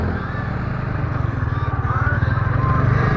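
Motorcycles ridden on an outing to a temple in the rainy season, a steady low engine drone with pulsing rhythm throughout, fairly close, with faint voices underneath.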